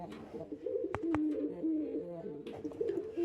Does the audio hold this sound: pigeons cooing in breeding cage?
yes